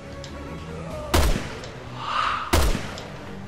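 Two loud, sharp gunshots about a second and a half apart ring out in the Resident Evil Revelations 2 Raid mode, fired from a sniper rifle over a steady game background hum.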